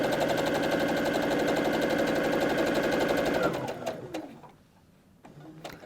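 A sewing machine stitches a row of quilt pieces with a steady, fast mechanical hum and chatter, then slows and stops, followed by a few light clicks and handling sounds close by.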